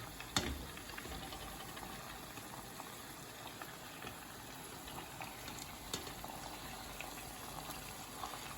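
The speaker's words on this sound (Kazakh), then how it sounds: "Қуырылып жатқан филемізге сақтап тұрған чесногымызды саламыз майын" Chicken fillet sizzles in hot oil with garlic in a frying pan, a faint, steady crackling and bubbling sizzle with occasional small pops and no talking.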